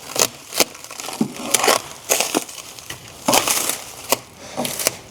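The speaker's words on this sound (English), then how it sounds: "I'll start pulling the cellophane away while" Cellophane wrap is pulled off a Medallion cabinet by Allura Bath & Kitchen, making a series of loud, close crackling rips in short irregular bursts.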